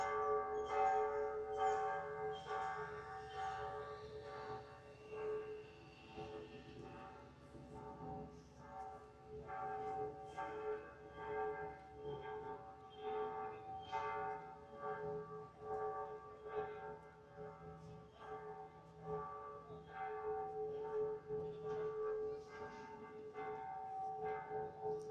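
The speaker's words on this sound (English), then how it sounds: "Okay, so the bells are still going, but I'm going to try to talk anyway." Church bells ring continuously outside the Basilica de Aguascalientes in Mexico, a steady overlapping peal with repeated strikes, fairly distant and moderate in level, with no talk over them.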